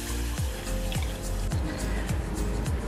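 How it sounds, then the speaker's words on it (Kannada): Three cups of water are poured into a cooking pot, one after another, as a steady splashing stream with repeated glugging drops that fall in pitch, heard close up with no talk. "3 ಕಪ್ಪಷ್ಟು ನೀರು ಹಾಕ್ತಾ ಇದ್ದೀನಿ"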